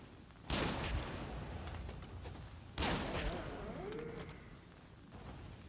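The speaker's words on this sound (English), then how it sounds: "Will that hear this gunshot?" Two loud gunshots ring out about two seconds apart in the video game Nioh 2, each a sharp crack trailing into a long rumbling tail, set against a steady bed of ambient game noise.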